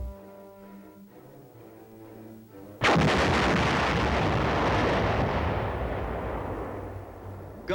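A 240mm self-propelled howitzer fires once with a huge, sudden blast that rolls and reverberates for several seconds, preceded by low mechanical loading clanks and hum.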